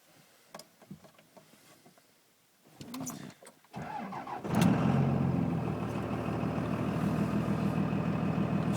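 A 2002 Cummins diesel truck engine with a six-speed, cold starting at 34 degrees: a few quiet knocks, then the starter cranks briefly before the engine catches and settles into a loud, steady, rumbling diesel idle, close by.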